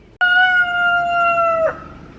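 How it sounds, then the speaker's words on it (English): A rooster in a backyard chicken yard lets out one loud, close crow lasting over a second and ending in a falling tail. "as the rooster just crowed and told you"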